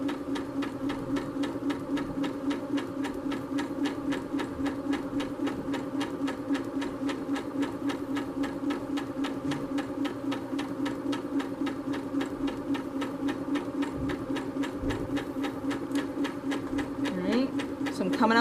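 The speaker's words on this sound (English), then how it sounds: "So I'm going to sew down to my gap." A sewing machine stitches pillow fabric in a steady, rapid mechanical whir with a fine needle rhythm, running continuously at close range throughout.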